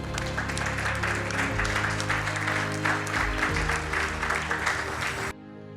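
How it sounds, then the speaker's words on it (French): Applause from an audience at a ceremony honouring a doctor's parents, steady dense clapping that holds for several seconds before cutting off abruptly. "Et je vous prie d'applaudir pour eux."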